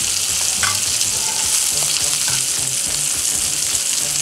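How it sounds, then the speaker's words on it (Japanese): Shrimp, shiitake mushrooms and parboiled potatoes fry in olive oil in a pan, giving a steady, close, loud sizzle with occasional stirring scrapes and no talking. "エビと椎茸に火が入ったらいいので、ちょっと動かしながら加熱していってあげてください。"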